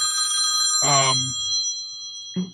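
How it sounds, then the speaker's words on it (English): A telephone ringing indoors with a shrill bell-like trill, one sustained ring followed by the start of another, heard alongside background voices in the room. "Somebody get the phone."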